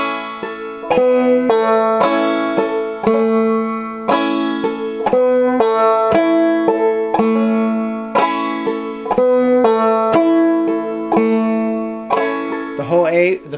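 A claw hammer banjo plays the opening of the A part of Cripple Creek, with bright plucked notes, strums and pull-offs in a steady, close rhythm and no talking.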